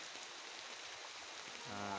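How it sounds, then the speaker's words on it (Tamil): Rain falls steadily on a village, a constant hissing patter throughout, with a low droning tone rising in near the end. "வீட்டுக்கு வந்ததுக்கப்புறமும் மழை பெஞ்சிக்கிட்டு இருக்கு"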